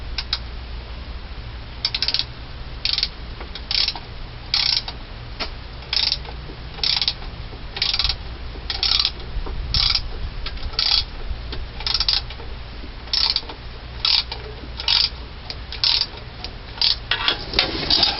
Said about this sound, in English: now we're just gonna torque these bolts here